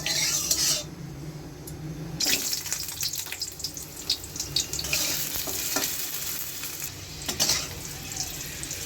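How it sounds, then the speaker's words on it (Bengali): Potatoes frying in hot oil in a pan, a close crackling sizzle with scattered sharp pops and stirring clatter, steady throughout without speech. "তেলটা গরম হয়ে গেছে এখন আলুগুলি আগে ভাজবো"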